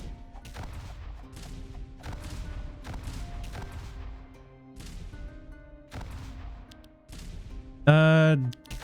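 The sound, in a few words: cannon firing in the video game Goblin Buster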